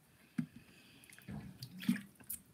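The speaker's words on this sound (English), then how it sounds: "Why am I drinking from a water bottle repeatedly?" Someone drinks repeatedly from a water bottle up close, with a few soft gulps, sloshes and liquid movements spread across a quiet moment, fairly faint and without talk.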